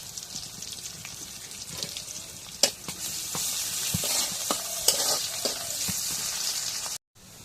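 Chopped garlic fries in hot oil with a moderate, crackling sizzle. Scrapes and stirring clicks are scattered through it before a brief cut near the end.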